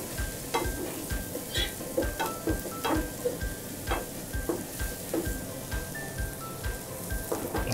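Curry powder and garam masala are stir-fried in a pan, with a soft steady sizzle broken by regular scraping strokes of a spatula, fairly quiet and close with no voices.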